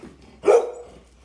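A single sharp dog bark, fairly close, during an indoor game of keep-away, with otherwise quiet surroundings.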